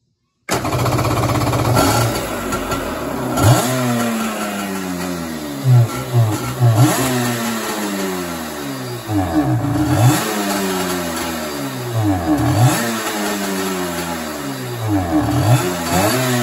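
A Kawasaki X2 personal watercraft engine with carburetor trouble revs up repeatedly in loud close surges, each climb falling away as it struggles and nearly dies, with no speech.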